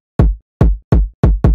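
Five punchy layered kick drum hits, a deep kick stacked with a brighter top kick for extra attack, in a reggaeton-style beat; each strike is loud and close with a sharp click and booming low tail, spaced unevenly with no voices.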